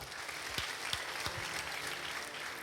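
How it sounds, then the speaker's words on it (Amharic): Steady congregational applause fills a church service, a dense even wash of many hands clapping throughout, with a few louder individual claps standing out. "አጨብጭቡ ለጌታ"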